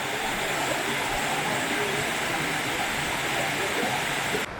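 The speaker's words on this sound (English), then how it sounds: "This is a no-name waterfall." A small unnamed waterfall on the Foothills Trail rushes in a steady, loud, unbroken roar of falling water, heard close up with no voices.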